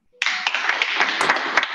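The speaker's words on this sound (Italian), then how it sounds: "Allora adesso sentirà un applauso per lei." A burst of audience applause starts abruptly and continues densely, with many hands clapping close and loud at an event for a talk on crisis management and logistics hubs.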